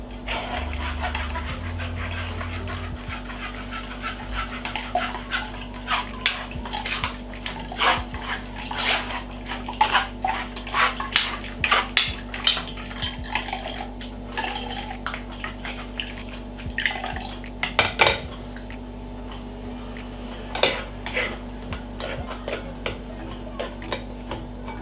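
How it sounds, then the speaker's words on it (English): Cucumber, ginger, lemon and mint juice strained through a strainer, with a run of soft wet taps, clinks and scrapes of utensil on mesh and bowl, close, over a low steady background hum. "strain it by running through my strainer right like this"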